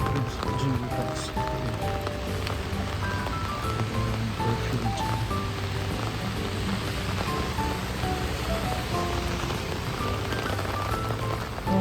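Rain falls in a street in Japan as a dense, continuous hiss of drops that holds steady throughout, with people talking over it.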